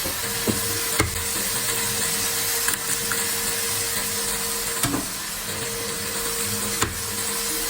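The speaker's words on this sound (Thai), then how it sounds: "ปุ๊บร้อน น้ำมันกระเซ็นกระจายใส่" Hot oil hisses and sizzles steadily in a pan while a Thai omelette with spring onion and shallot is being cooked, with a few sharp pops and spatters scattered through the continuous frying noise.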